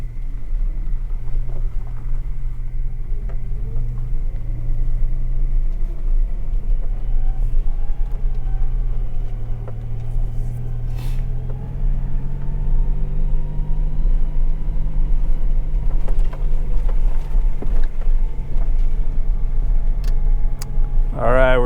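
A quad bike's engine drives along in forward gear on an afternoon ride, a steady close-up rumble that holds its pitch throughout without pauses.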